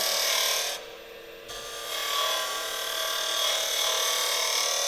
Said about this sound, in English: Now notice every time I cut a taper here, I tend to go out further to the center.